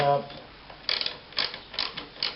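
Spanner tightening the bolt on a Scott Bonnar mower's drum clutch, giving four short metallic ratcheting bursts at a steady pace, close up and fairly quiet, with a brief voice at the start.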